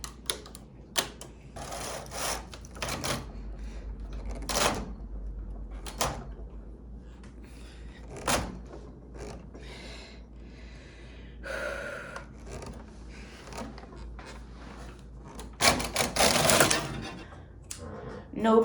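A sock knitting machine cranks along with thick yarn, its clattering mechanical rhythm running in uneven bursts with louder rattles near the end, and a person breathing or murmuring faintly underneath.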